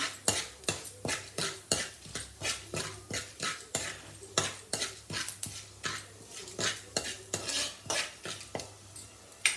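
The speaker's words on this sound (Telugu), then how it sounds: "పప్పులు కొంచెం వేగినాక" Lentils and onion frying in a pan, heard mostly as a rapid, steady rhythm of spatula strokes scraping and clinking against the metal, with only a faint sizzle underneath.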